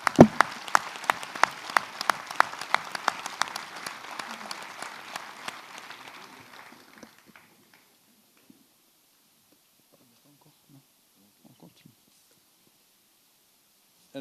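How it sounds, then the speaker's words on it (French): Applause from the members of a French intercommunal council at its installation meeting fills the first half, dense and moderately distant, then thins out and fades into near silence. "Sous nos applaudissements."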